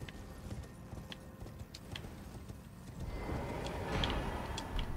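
Horse hooves clip-clop in Elden Ring's Shadow of the Erdtree expansion, a faint, steady, quick rhythm of soft hoof strikes that grows somewhat louder and busier in the last couple of seconds.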